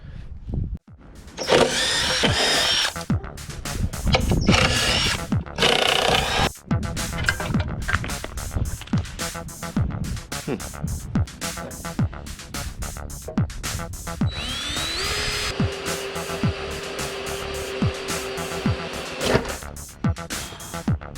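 Power tool whirring and clattering as bumper guards come off a Porsche 944, with loud bursts early on and a steady mechanical whine toward the end, close up and with no talking.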